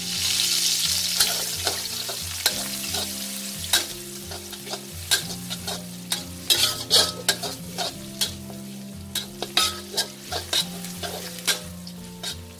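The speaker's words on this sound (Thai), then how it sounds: "น้ำมันร้อนแล้วนะคะให้ใส่กระเทียมลงไปเลยค่ะ" Garlic dropped into hot oil in a wok on medium heat sizzles loudly, followed by repeated sharp scraping strokes of a spatula as it is stirred, with a steady frying crackle underneath.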